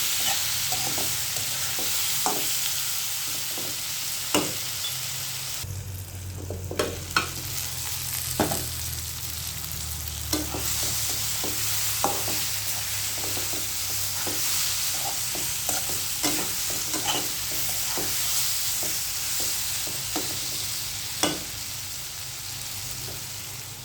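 Ripe jackfruit stir-fried in a pan with a few green chillies: a steady, close sizzle with frequent sharp spatula scrapes and taps against the pan, no talking.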